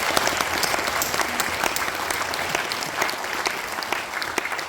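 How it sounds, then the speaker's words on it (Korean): A church congregation applauding at an Easter service, continuous lively clapping from many hands with a few sharper individual claps standing out, steady in level and unaccompanied by speech. "박수하시겠습니다."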